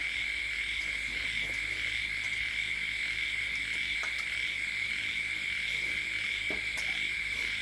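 Dense chorus of insects and frogs calling near rice paddies, a steady high-pitched trill running throughout with occasional croaks and clicks, loud and continuous with no talk.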